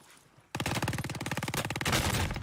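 Rapid automatic gunfire from Call of Duty Warzone, Pacific map, bursts in after a near-silent start and keeps up a loud, dense rattle of shots with slight pulses to the end.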